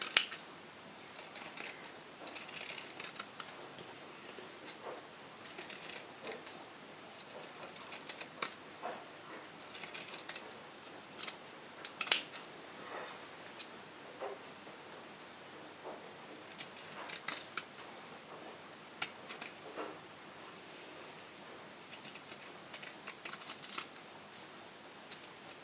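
Scissors snip into fabric to cut curves for a printed sewing pad, a long run of crisp, irregular cutting clicks, close and fairly quiet, with short pauses between bursts of cuts.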